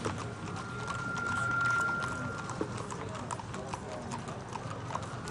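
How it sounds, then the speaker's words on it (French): Horse hooves clip-clop steadily on hard ground during a national day parade, amid a murmuring crowd, with a faint sustained tone and background voices. "les bruits des chevaux"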